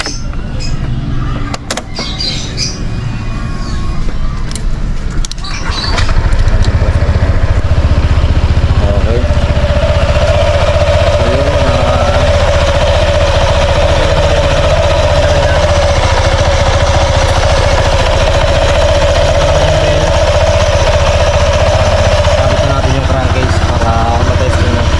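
Honda PCX 160 scooter engine running steadily after its CVT was reassembled with pulley and torque drive refitted, a loud continuous drone with a rising whine, preceded by a few seconds of clatter and handling noise.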